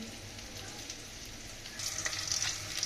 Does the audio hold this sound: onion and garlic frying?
yes